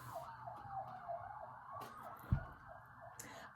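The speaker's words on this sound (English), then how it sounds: "it's sirens outside in the park" A wailing emergency siren rises and falls in the distance outside in a park, faint and continuous, with a brief thump partway through.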